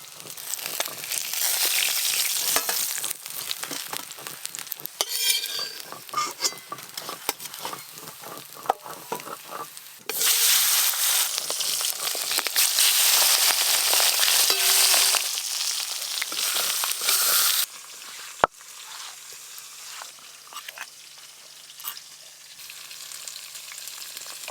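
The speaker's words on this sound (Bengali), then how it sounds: "কাঁচা লঙ্কা, সর্ষে, মাছের পেটিগুলো বেশ ভালো করে লাল লাল করে ভেজে নিয়েছি।" Fish belly pieces frying in oil with green chilli and mustard, a loud continuous sizzle and crackle with scattered stirring clatter, briefly louder in the middle and then settling to a softer hiss.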